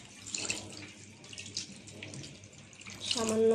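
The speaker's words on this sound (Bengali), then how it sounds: "এখন আমি একটু পানি দিয়ে দিব" Water poured into a cooking dish of mashed cumin, garlic and oil for a fish curry, a steady close splashing trickle that swells toward the end.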